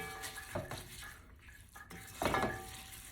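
A spoon stirring a pot of rice with pigeon peas (arroz con gandules), with scraping and clinking against the pot in a few short bursts, the loudest near the end, with no talking.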